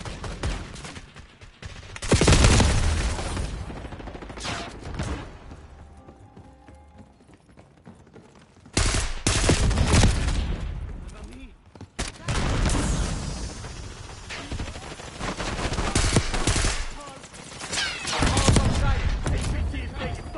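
Gunfire in a shooter video game, with rapid bursts and volleys of shots in several loud clusters separated by quieter stretches, mixed with game noise and occasional radio-style voice callouts.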